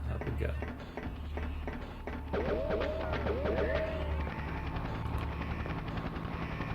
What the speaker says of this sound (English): Is that a different helicopter?